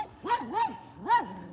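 Small dogs behind a fence give a few separate whining, whimpering yelps. Each rises and then falls in pitch, and they are spaced apart and heard at a moderate distance.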